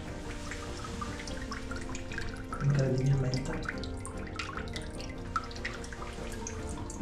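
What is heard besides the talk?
old water tap pouring water in a cave-like villa room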